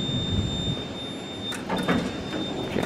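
Schindler traction elevator doors at a Las Vegas hotel tower slide open with a steady mechanical hum, a brief bright rattle and thump partway through, heard at close range in a quiet lobby.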